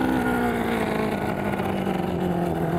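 Speedway race cars on a track in Katherine, Australia, make a loud, continuous engine drone that holds steady with slight shifts in pitch as they run past.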